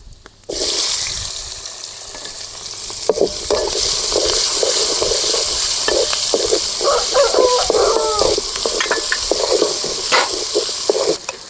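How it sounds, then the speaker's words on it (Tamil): Mustard seeds, chana dal, urad dal and chopped shallots crackle and sizzle in hot oil, a loud steady frying hiss with popping seeds and scattered stirring clicks, no voices. "எண்ணெய் நல்லா சூடேறிக்கிடுச்சு. 1 பூணு கடுகு, 1 பூணு கடலைப்பருப்பு, 1 பூணு உளுத்தம்பருப்பு, அரிஞ்சு வச்சு சின்ன வெங்காயம் 1 கப்பு"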